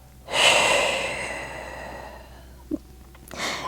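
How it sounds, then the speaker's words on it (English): A single long, airy exhale during a wall Pilates workout, close and clear, fading slowly, followed by a short breathy catch and a fresh intake of breath. "And exhale."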